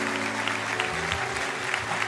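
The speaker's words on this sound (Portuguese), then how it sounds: "Vamos aplaudir o Senhor." Congregation clapping during a church service, brisk continuous applause with a low hum of voices and room tone underneath.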